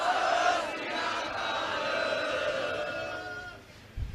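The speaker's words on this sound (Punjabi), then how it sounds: "ਇੱਕ ਜਕਾਰਾ ਛੱਡ ਦੋ ਕਿ ਮੋਰਚਾ ਇੱਥੋਂ ਜਿੱਤ ਕੇ ਜਾਣਾ ਵਾ" A crowd at the Kaumi Insaaf Morcha protest outside Gurdwara Amb Sahib, Mohali, raises a Sikh jaikara, a loud sustained chorus of many voices shouting together that swells and slowly fades over about four seconds.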